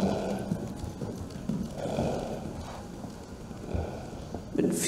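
An Icelandic horse named Helgi gallops around an arena in a relaxed, energetic gait, with a steady rhythm of soft hoof beats at moderate distance under a constant background hum.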